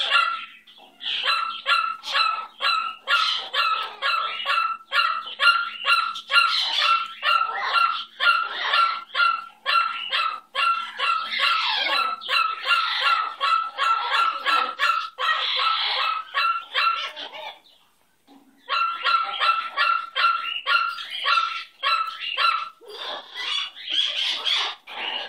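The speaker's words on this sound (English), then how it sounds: "Got a puppy, Dolly girl." A puppy barks in a rapid, continuous run of high, yappy barks, close and fairly loud, pausing briefly once before resuming at the same insistent pace.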